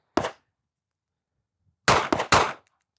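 Smith & Wesson Bodyguard 2.0 compact pistol firing: one sharp shot, a pause of about a second and a half, then three quick shots in close succession, loud and near.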